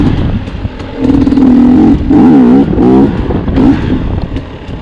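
A 250 TE enduro motorcycle accelerates hard while held on its rear wheel in a wheelie, its engine loud and close, climbing and wavering in pitch through several revving surges before easing off.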